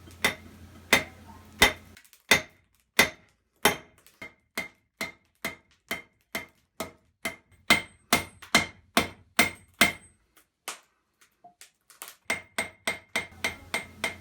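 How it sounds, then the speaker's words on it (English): A ball peen hammer forges the spoon end of a metal spork, striking in a steady rhythm of around thirty sharp ringing blows with short pauses. The strikes are close and clear, with no talking. "Now I'm using the ball peen to start to really move the metal"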